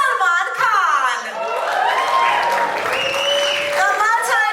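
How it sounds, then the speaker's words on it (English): Audience applause and cheering welcome Bollywood executive producers Salman Khan and the Akhtars onto a stage at a trailer launch, a steady crowd roar lasting throughout with an announcer's voice carrying over it. "I'd like to welcome on stage with a huge round of applause the executive producers of the docu-series"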